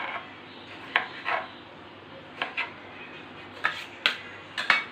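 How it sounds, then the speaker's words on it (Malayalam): A knife cutting tomatoes on a cutting board for chicken curry, with sparse sharp taps and short scraping strokes spaced irregularly over a quiet background, close and with no talking. "ഇനി നമ്മൾ തക്കാളി കട്ട് ചെയ്തെടുക്കുകയാണ്."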